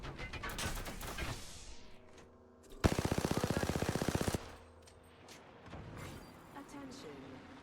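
Rapid automatic gunfire in the video game Apex Legends, a loud sustained burst of evenly spaced shots lasting over a second, preceded and followed by game effects and in-game voice chatter.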